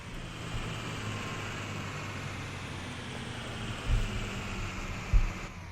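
A 1993 Blue Bird B700 school bus in the Rigs of Rods driving game runs with a steady, low engine drone throughout, with two brief louder thumps near the end and no talking.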